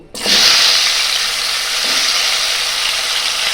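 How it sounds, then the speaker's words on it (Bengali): Potatoes drop into hot oil left from frying fish heads and set off a loud, sudden sizzle that settles into a steady, dense hiss, with a faint scrape of stirring. "ওই একই তেলের মধ্যে আমি আলুগুলোকেও ভেজে নেব।"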